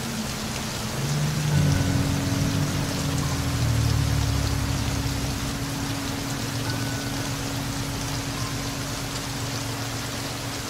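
Heavy rain pours steadily at night on a rain-flooded road in Iguatu, Brazil, caught by a security camera as a dense, constant hiss with a low rumble underneath and no voices.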